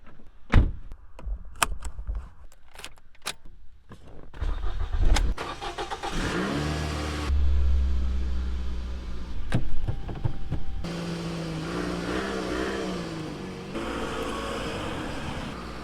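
A few clicks and a door thunk, then a Toyota Camry engine cranks and fires, revving up into a steady drive with rising and falling engine tone.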